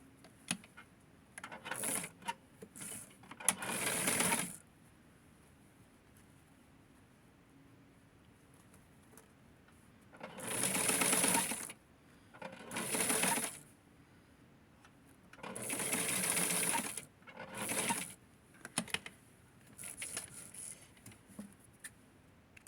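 A sewing machine stitches a Barbie doll dress in several short bursts of rapid whirring, separated by quiet pauses, heard close with no talking.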